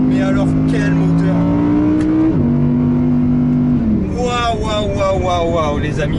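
An Audi R8 RWD engine revs hard on a race circuit, its pitch climbing and dropping in sustained sweeps, with a person talking over the roar.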